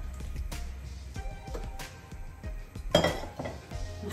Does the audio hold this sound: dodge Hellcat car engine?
no